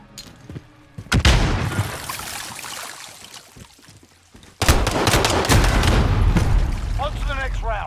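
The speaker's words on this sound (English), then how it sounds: "Gunfire." Gunfire in the Call of Duty Modern Warfare video game: loud bursts of shots and booms crack in two heavy volleys, the second sustained with rapid firing and explosions, alongside game voices.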